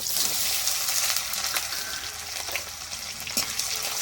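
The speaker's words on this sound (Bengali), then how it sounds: "পেঁয়াজটা একটু ভাজা ভাজা হবে।" Chopped onion fries in oil left from frying prawns with whole cumin, cardamom, cloves and cinnamon, a dense continuous sizzle with faint stirring scrapes, close and steady throughout.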